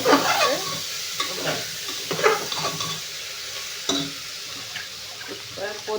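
Mixed vegetables such as beans and carrots with mint, coriander and curry leaves frying in a pan while a spoon stirs them, scraping strokes and clinks over a gentle sizzle, close by.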